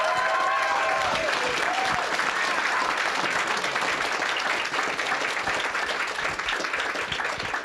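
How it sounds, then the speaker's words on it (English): Audience applause for NDP MPs at a caucus and staff gathering in Ottawa, a steady, dense wash of clapping throughout with a few voices calling out near the start. "big round of applause for these great MPs."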